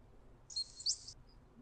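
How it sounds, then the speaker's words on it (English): Two short, high-pitched bird chirps in quick succession, then a faint third call, over quiet outdoor background noise. "And do you hear the birds?"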